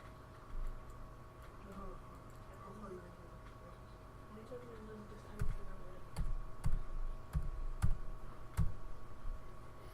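Scattered keyboard taps, then a quicker burst of typing clicks over a low steady hum, with faint background talk.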